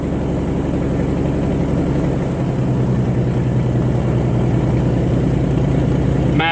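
An Aero Commander 520 aircraft piston engine runs with a steady, loud, low rumble close by, a continuous drone with a slight shift partway through as it catches and settles.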